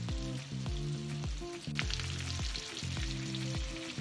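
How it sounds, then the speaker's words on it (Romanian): Steady crackling sizzle of pork meatballs frying in hot oil, close up, with rhythmic bubbling pops and occasional scraping from a pan. "prăjesc chiftelele, punem și pireul la foc"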